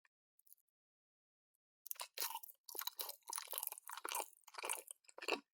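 Someone bites and chews a chocolate chapssaltteok, a glutinous rice cake, making close, crisp, moist chewing sounds in repeated bursts after a short quiet start.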